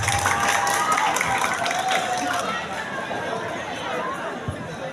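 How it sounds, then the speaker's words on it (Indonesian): A school assembly crowd at a vocational high school claps amid lively chatter and scattered shouts. The applause is loosest and busiest at first, then thins under the ongoing crowd noise. "Tepuk tangan buat kita semuanya."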